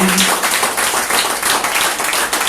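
A church congregation at a worship service claps to acclaim Jesus, producing a loud, dense, continuous patter of many hands close by, with no clear pauses.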